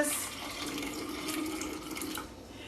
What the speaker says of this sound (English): So I'm just going to pour this in here like this.